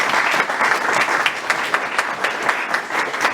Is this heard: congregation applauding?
yes